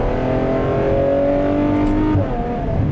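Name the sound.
Ferrari F12 Berlinetta engine revving in second gear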